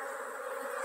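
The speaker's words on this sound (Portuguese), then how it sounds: "A abelha tá chegando com dois, três tipos de pólen." Honeybees flying in to their hive entrance at an apiary, some laden with pollen, make a close, steady droning buzz with a bright harmonic whine for a brief moment.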